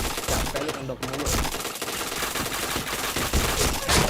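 Rapid automatic gunfire in a mobile shooting video game, with dense, sustained bursts that fill the whole stretch at high loudness and faint voices underneath.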